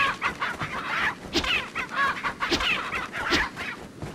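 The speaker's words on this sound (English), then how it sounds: "I'm going to stop killing the chickens" Several chickens in Resident Evil 4 cluck and squawk repeatedly, busy overlapping calls close by with rustling movement in the background.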